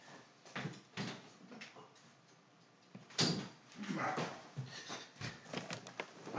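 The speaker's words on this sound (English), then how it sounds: "Let my dog out so it doesn't keep barking." A dog barks in short, scattered bursts, some close and sharp, mixed with door sounds and faint room noise.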